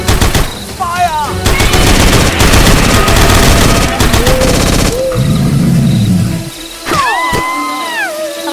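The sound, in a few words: gunfire sound effect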